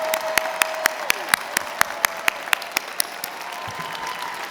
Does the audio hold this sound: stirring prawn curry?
no